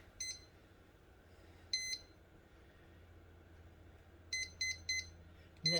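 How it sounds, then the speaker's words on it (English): A kitchen timer beeps as it is set to 15 minutes, sharp high electronic beeps in short bursts, one or two early and then a quick run of several near the end, close in a quiet kitchen. "So we'll set our timer for 15 minutes."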